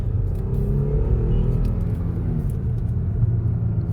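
An Audi 3.0T engine with excessive oil consumption and burnt valves rumbles low and steady above 3000 RPM from inside the car while driving with the windows closed, alone without voices.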